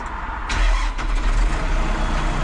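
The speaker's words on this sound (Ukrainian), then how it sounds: "Трактор оце стояв багато часу, зараз подивимося, як він заводиться." A heavy tractor engine, long unused, cranks and catches, then settles into a loud, steady rumbling run close by.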